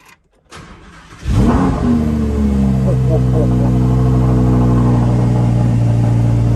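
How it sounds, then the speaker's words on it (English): A Lamborghini Huracan Spyder cold-starts nearby: a starter whir, then a sharp loud engine flare that settles into a steady, rich high idle with a deep rumble. "just gonna turn the car on. Just do that and then press start."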